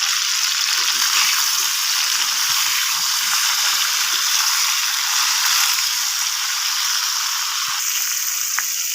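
Steady, loud sizzle of food frying in hot mustard oil with onions, a continuous hiss with faint crackles throughout, no voices.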